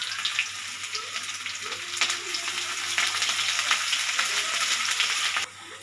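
Cumin, garlic and onion frying in a pan, a steady close sizzle and crackle of hot oil that holds throughout with light stirring scrapes, no voices.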